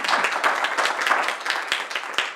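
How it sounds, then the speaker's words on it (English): A crowd claps steadily, a dense burst of applause from many hands, fairly close and continuous throughout. "a round of applause"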